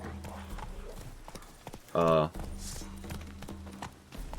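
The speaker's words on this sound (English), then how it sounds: "I did not intend to actually get on the horse this one occasion." Horse hooves in The Witcher 3 as the rider mounts, a short, loud clatter of hoofbeats rising midway above quiet game ambience before settling again.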